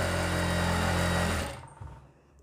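A close sewing machine whirs along a kurti's folded side slit in one steady run. It halts about halfway through, and a few faint handling sounds follow.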